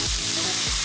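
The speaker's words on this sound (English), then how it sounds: "to the frying pan, and we're going to fry this rice off" Rice for chicken porridge frying in a pan with browned garlic, heard as a loud, continuous hissing sizzle close up over a brief moment.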